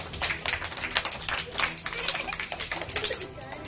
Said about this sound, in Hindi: जोरदार ताली बजाओ सभी बच्चे।